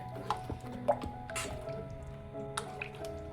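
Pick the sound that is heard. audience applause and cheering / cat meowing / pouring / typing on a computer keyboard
pouring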